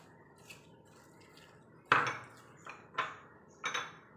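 A spoon clinks and scrapes against a bowl while mango, apple and grapes are mixed into fruit custard. There are four or five sharp, close taps over quiet background.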